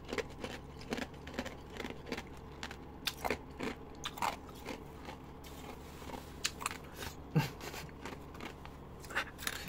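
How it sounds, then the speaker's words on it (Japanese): Ice frozen from ordinary tap water crunches between teeth in close, irregular bites and chews, a steady run of crisp cracks and grinding. "結局普通の水道水の氷もボリボリ食えますね。"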